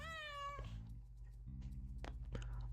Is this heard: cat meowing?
yes